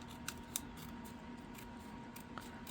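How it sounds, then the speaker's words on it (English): Scissors fussy-cut paper at close range, giving a few soft snips and faint crisp clicks over a quiet steady background. "I'm going to have to do a little fussy cutting, trimming it here"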